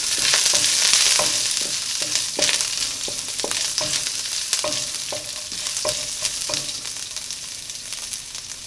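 Dried red chilies, ginger and green chilies spit and crackle with mustard seeds in hot oil while a spoon stirs in quick, regular scrapes and clicks. The sizzle sits close, starts louder and eases slightly, with no voices.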